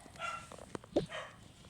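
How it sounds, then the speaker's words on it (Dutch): A dog barks a few short times indoors, somewhat distant and moderately quiet, amid faint household rustling. "Sorry als jullie mijn hond horen blaffen."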